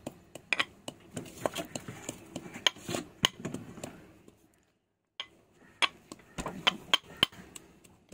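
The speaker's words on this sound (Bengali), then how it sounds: "দেখো হামানদিস্তার মধ্যে এখন লঙ্কাটাকে পুরো কুচি কুচি করে এখন চেতে নিচ্ছে পুরো।" Green chillies pounded and crushed in a metal mortar and pestle with wild jujube (kul), a run of sharp, clinking strikes at an irregular pace, a brief pause, then more close pounding blows.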